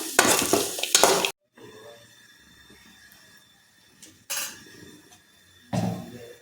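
Cumin seeds roast in a pan for a Vishu payasam while being stirred, giving short scraping, rattling bursts near the start and end with a quieter, faint sizzle in between.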